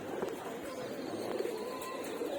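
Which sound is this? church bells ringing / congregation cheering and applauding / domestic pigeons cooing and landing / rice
domestic pigeons cooing and landing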